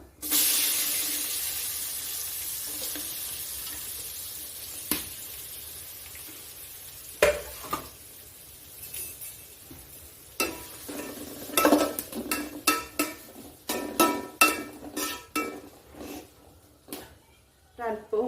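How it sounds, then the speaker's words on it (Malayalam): Sliced onions and green chillies hit hot oil in a pan, a loud sizzle that slowly fades, followed by scraping stirs and utensil clinks under occasional talk. "അരിഞ്ഞു വെച്ച സബോളയും പച്ചമുളകും അല്ലേ അത് ചേർത്ത് കൊടുക്കാം"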